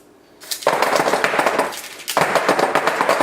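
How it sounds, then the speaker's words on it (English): A metal brownie pan filled with triple chocolate walnut batter is banged on a kitchen table to level it, giving a rapid, loud, close series of knocks in two bursts with a brief pause between them. "And just bang it on your table a few times."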